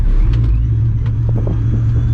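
Straight-piped supercharged 2004 Mustang GT engine pulling away, a loud, close, deep rumbling drone that holds steady and heavy throughout the short burst.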